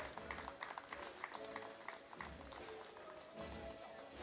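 An audience claps for a medalist at a Turkish open-water freediving championship, with a quiet patter of applause that rises and falls and some scattered voices.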